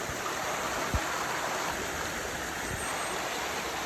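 A river in Bulgarian countryside flows with a steady, close rushing hiss, broken by a couple of faint low knocks.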